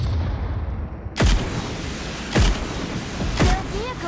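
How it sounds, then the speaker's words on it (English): Gunfire in the game PUBG Mobile comes as three sharp, loud shots roughly a second apart, each a sudden crack with a short decay, over a low background rumble. "Firing sounds detected."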